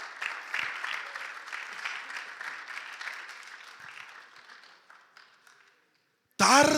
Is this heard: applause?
yes